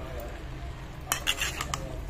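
Utensils clink and scrape in a pan as chicken is stirred with coarse salt, a few sharp metallic taps and scrapes over a low steady background hum, no talking.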